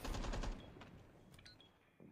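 Rapid machine gun fire in the tactical shooter Rainbow Six Siege, a dense loud burst for about half a second, then fading tails and a few scattered clicks and pings.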